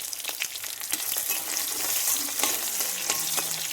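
Cumin, panch phoron, bay leaves, dried chilli and chopped onion frying in hot oil, a loud dense sizzle with crackling spits and stirring throughout.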